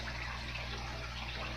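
A Maxi Jet powerhead with an air line churns out a constant stream of fine bubbles in a freshwater cichlid tank, an even close-up fizz and gurgle over a low steady hum, no voices.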